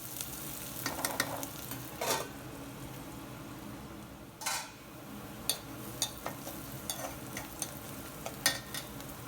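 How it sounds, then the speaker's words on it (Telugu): Onions frying with turmeric in a covered pan for a bitter gourd and garlic fry: a steady, moderately loud sizzle with scattered crackles and a few sharper stirring scrapes, no voices. "మూత పెట్టి ఒక నిమిషం ఆనియన్స్ని బాగా కలర్ చేంజ్ అయ్యే వరకు కూడా ఫ్రై చేసుకుందాము"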